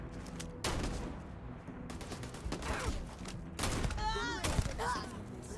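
Gunfire from a weapon with heavy recoil in Starfield, sharp bursts of shots in rapid volleys across the clip, loud and close, mixed with game sounds and someone talking over it.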